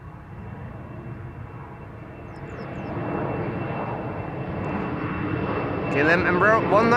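A KLM Embraer 190 jet departing Amsterdam Schiphol, its steady engine roar building gradually and staying loud throughout, with voices talking over it near the end.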